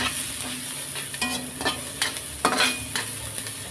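Sliced onions sautéing in a pan while cooking Filipino beef pares, a steady close sizzle broken by several scraping stirs of a utensil against the pan, with no voices.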